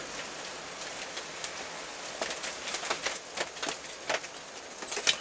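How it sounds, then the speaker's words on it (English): Rain falling steadily as a soft broadband hiss, with scattered louder drop taps and patters standing out, heard alone with no voices. "I'll take the rain."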